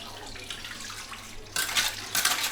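Water gushes fast from a tap at a village water point, a steady hiss that swells into louder splashing bursts midway and again near the end, with no voices.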